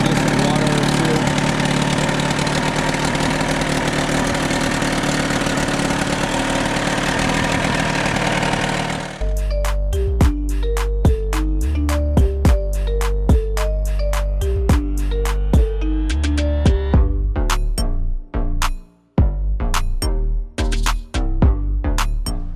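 A Johnson 28 outboard motor on a boat runs with a loud, steady, close drone for about nine seconds, then cuts out and talking follows.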